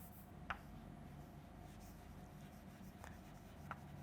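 Writing on a board during a chemistry lesson: a few faint, sharp taps and scratches of a marker, well spaced and quiet against a soft background hum.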